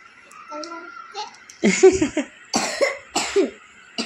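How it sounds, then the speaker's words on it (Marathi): A young child coughs in a series of short bursts, close and loud, with some babbling and giggling sounds mixed in. "आता तोंडा हात ठेवत जा खोकलताना."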